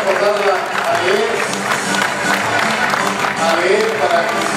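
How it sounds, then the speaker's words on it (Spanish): Applause from the crowd at a centenary ceremony for Los Olivos, with broad steady clapping that fills the whole stretch, mixed with crowd noise and voices talking underneath. "Gracias, un aplauso."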